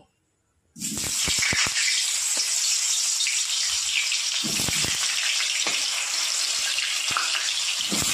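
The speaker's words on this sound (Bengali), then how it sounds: "তেল ভালো মতো গরম হয়ে গেছে, আলুগুলো আমি ভেজে নেব।" Potatoes fry in hot oil in a wok, a steady, loud sizzle that starts abruptly after a brief silence and continues unbroken, with occasional sharper crackles and pops.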